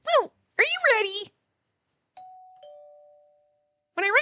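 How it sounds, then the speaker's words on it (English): A two-tone chime doorbell rings once in a video game scene, a clean electronic ding-dong sounding alone between bursts of cartoonish character voice sounds. "When I rang the doorbell"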